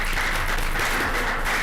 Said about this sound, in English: I do want to give them a round of applause.